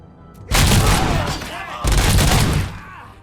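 Gunfire in the video game Robocop: Rogue City, with two loud, sustained bursts of rapid shots close by, separated by a short gap, and a voice briefly audible among them.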